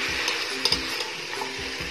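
Green peas, carrot and potato fry in a pan with a steady, moderate sizzle, broken by a few soft scrapes of a spoon stirring the vegetables.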